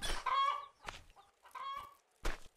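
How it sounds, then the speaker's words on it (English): Chickens cluck and squawk in the farming video game Farmer's Life, several short clucking bursts separated by brief pauses, clear and close with no talking. "Lots of chickens."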